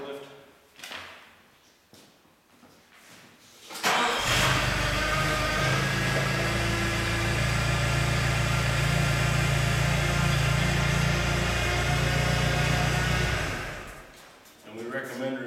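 Forklift engine running loudly and steadily near a tractor during a liquid fertilizer tank installation, starting abruptly after a few seconds of quieter clatter and cutting off near the end.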